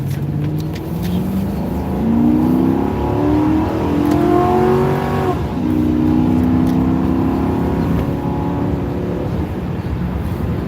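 A Dodge car accelerates past near a gas station, its engine note rising in pitch with clear harmonic sweeps, loud and close, then surging again as it pulls away.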